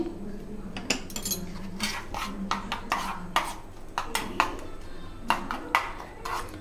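Metal spoon mixing peanut chutney in a bowl, a run of irregular clinks and scrapes against the dish, close and clear with no talking.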